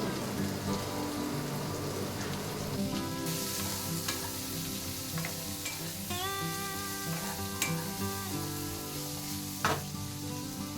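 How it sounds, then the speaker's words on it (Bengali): Vegetables seasoned with salt and turmeric fry in a pan with a soft, continuous sizzle and occasional crackles and stirring clicks, while faint sustained melodic tones play in the background. "এখন এগুলো অল্প ভাজা হয়ে গেছে তাই এখন একটু নেড়ে নিয়ে আর বেগুনগুলোকে দিয়ে দিচ্ছি"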